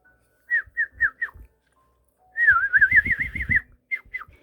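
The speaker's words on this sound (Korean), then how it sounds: "참새들이 지저귀며 말했어요." Sparrows chirping in a fairy-tale scene: four short bright chirps, a brief pause, then a rapid warbling trill and two final chirps, clear and close with no talk.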